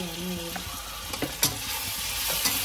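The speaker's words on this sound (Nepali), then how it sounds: "अब यो ग्रेभीलाई मजाले फ्राई गरेर" Gravy for biryani fries in a pan with a continuous sizzle, broken by a few stirring scrapes and clinks.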